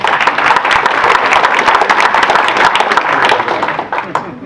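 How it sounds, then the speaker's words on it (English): Audience clapping steadily at the Common Ground 2022 event, dense and loud with many hands overlapping, holding strong for about four seconds before tapering off at the end. "Let's have applause."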